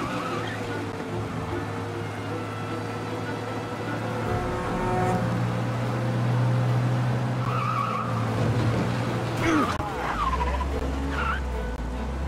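A car in the video game Mafia Definitive Edition driving fast to escape police: steady engine roar with repeated tire squeals and skids, rising louder midway, with sharp screeching bursts toward the end.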